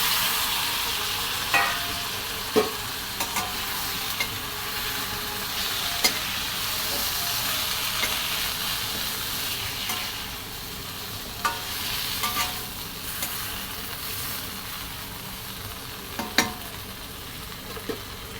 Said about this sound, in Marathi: त्यामध्ये टाकणार आपले वांगे आणि शेवग्याच्या शेंगा